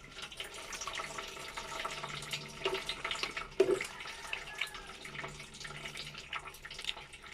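Hands washed with liquid soap under a running tap before taking vital signs, a steady close hiss of flowing water with a few brief splashes and knocks, no talking.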